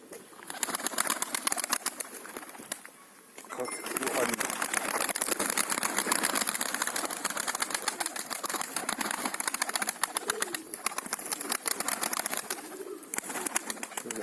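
Caged pet birds, a breeding pair with blue chicks, sing with a dense, continuous stream of rapid chirps and trills close by, broken by brief pauses, while someone talks in between.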